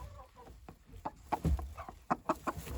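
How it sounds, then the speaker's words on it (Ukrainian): A hen clucking inside a chicken coop, a series of short soft clucks in an irregular rhythm, close by and fairly quiet, with no talk over them. "ну вредна курка сидить, ми знаємо, що вона не несеться"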